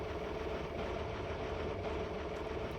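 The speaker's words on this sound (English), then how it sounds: "As you can hear, it has engine audio." Simulated vehicle engine in a Minecraft weather mod addon, a steady droning idle-like rumble that holds continuously and evenly throughout, fairly loud and alone.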